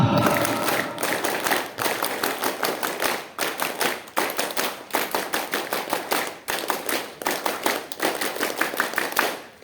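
Scout troop members at a Pramuka anniversary ceremony perform three rounds of the traditional rhythmic Pramuka group clapping, loud dense claps in patterned bursts separated by brief pauses.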